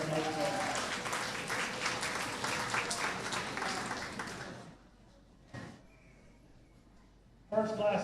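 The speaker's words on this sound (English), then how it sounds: "give Tiffany a good round of applause here before we get started with our goat show" A crowd claps steadily for several seconds at a county fair goat show, then the applause stops abruptly, leaving quiet with a brief thump and another short burst of sound.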